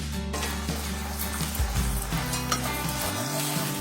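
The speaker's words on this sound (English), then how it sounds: "hot skillet, and we're going to start with the meat side down. These are so thin, they should only take about 3 minutes." Thin beef patties frying meat side down in a hot skillet, a loud steady sizzle close up with a low hum underneath and occasional light scraping, no talking.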